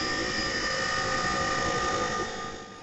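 Homeland Security helicopters captured in a field recording, a continuous loud rotor and engine drone with steady tonal whine that fades slightly at the end.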